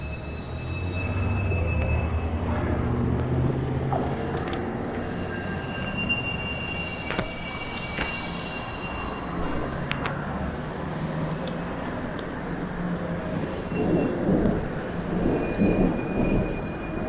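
Train wheels screech on the track along Yonge Street in Toronto, heard from a bike, for a long stretch, shrill overlapping tones above a heavy rolling rumble, loud and nearby, swelling toward the end.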